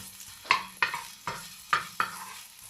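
Pork ribs with ginger stirred in a hot pan for sinigang, with four or five sharp scraping strokes at a steady rhythm over a quiet sizzle, close up and alone.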